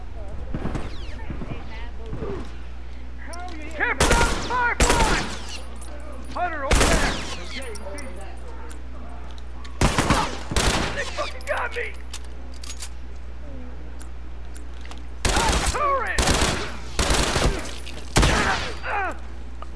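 Shotgun blasts in the survival action game The Last of Us, set in a high school: sharp, loud, widely spaced shots, some in quick pairs, over a steady low hum, with game speech and ambient noise between them.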